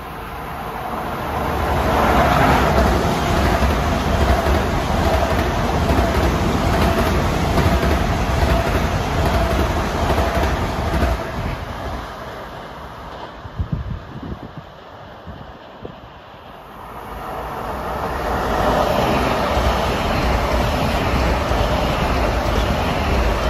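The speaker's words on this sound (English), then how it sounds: "That was train 1623 from Huntington to Grand Central." LIRR train 1623 from Huntington to Grand Central rushing past at Carle Place without stopping: a broad roar swelling, dipping briefly with some clatter, then swelling again, with wind noise and no talk.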